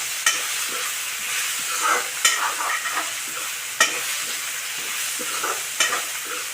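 Mung and masoor dal are dry-roasted in a pan for khichuri, making a soft continuous rustling sizzle broken by several sharp scrapes of a spoon against the pan, close up and with no talking.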